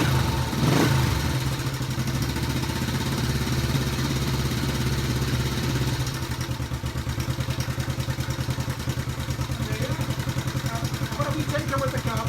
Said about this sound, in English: So it's a bit noisy, guys. It's a bit rattly because the tappets are noisy